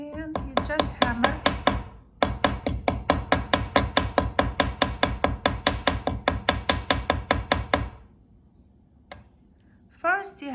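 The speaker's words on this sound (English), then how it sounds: "First you hammer only the circle here, and then very lightly, few taps when they join." A rapid run of small metallic hammer taps on tiny metal jewelry pieces for fishtail chain earrings, sharp and evenly spaced, close by, followed by a pause and a couple of scattered clinks.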